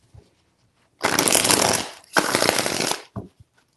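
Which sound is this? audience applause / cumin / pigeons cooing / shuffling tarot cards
shuffling tarot cards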